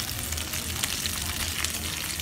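Chicatana ants frying in a pan with caramelized garlic and onion give a steady, dense sizzle and crackle that stays even and close throughout, with no voices.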